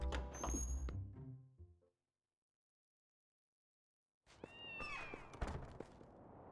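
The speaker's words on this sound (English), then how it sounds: "There's so many cats in here." Cats meow in the Zelda: Twilight Princess HD video game, with several short close meows in a busy burst, then a silent gap, then more meowing cries.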